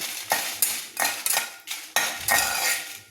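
Dried red chillies frying in a pan while a metal spoon stirs them, with a series of sharp scraping clinks against the pan at an uneven rhythm over a faint sizzle.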